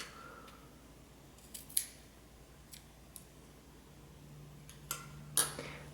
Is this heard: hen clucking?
no